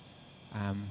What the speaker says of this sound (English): Make the crickets go away.